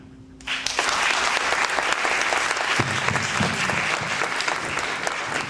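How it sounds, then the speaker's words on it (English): A live audience at a hip hop poetry performance bursts into sustained applause after a brief quiet moment, many hands clapping loudly and evenly for several seconds. "Clap your hands if you love hip hop."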